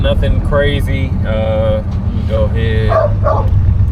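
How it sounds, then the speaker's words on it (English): A dog barks repeatedly in short, loud yaps and whines near a 1970 Buick Electra 225 during a test drive, with someone talking over a steady low cabin hum. "Oh, that's the dog barking."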